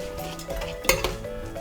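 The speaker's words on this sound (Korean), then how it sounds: "쌀 넣고도 조금만 볶아주세요." A utensil scrapes and stirs soaked rice with mushrooms and sesame oil in a pot, with clinking metal contacts and a faint sizzle underneath, steady and close.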